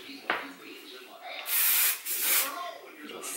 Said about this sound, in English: let me spray it one more time so that way